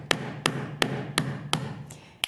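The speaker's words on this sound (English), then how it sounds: "So you want to come in and hammer." Metal jewelry components struck with a soft hammer: six sharp, evenly spaced taps about every third of a second, close and crisp over a low steady hum.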